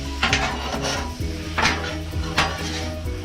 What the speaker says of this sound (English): go ahead and give it a stir